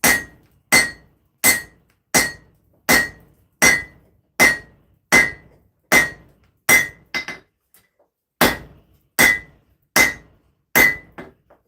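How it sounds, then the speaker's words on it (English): A hammer strikes hot steel on an anvil while forging an axe, about fifteen loud, ringing blows in a steady rhythm, with a short pause near the middle before the strikes resume. "Forging away again"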